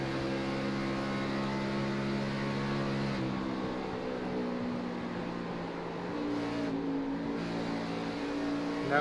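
An Xfinity Series stock car engine at Charlotte Motor Speedway in the iRacing video game holds a loud, steady drone under throttle, its pitch wavering slightly through the run.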